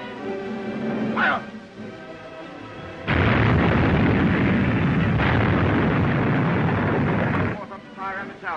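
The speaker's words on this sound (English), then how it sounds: "Turn your big guns on her again." A British cruiser's big guns fire salvos at a South American battleship in a film battle: a loud, sustained roaring blast of gunfire follows quieter background sound, with brief voice-like sounds before and after.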